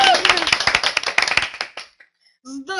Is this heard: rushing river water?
no